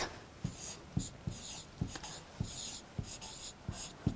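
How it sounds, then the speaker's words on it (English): A pen or marker scratching out an equation, with short rhythmic strokes and taps roughly every half second, close and clear, with no talk over it. "when I will be writing down the equation"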